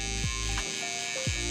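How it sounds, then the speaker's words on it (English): Electric hair trimmer running during a self-cut drop fade on curly hair, a steady close buzz with short shifts in pitch as the blade moves through hair. "So using my trimmer now,"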